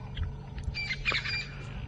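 A bird gives a few short squawks and chirps in the African bush at sunrise, faint and close, over a low rumbling vehicle idle.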